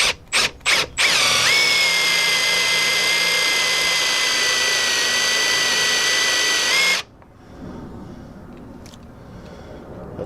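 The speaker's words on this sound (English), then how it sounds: "now we're going to see if we can drill through this" A power drill bores through the metal body panel of a 2005 Chevy Avalanche truck, starting with a few short bursts before a loud, steady high-pitched whine for about six seconds that stops abruptly, leaving quiet room noise.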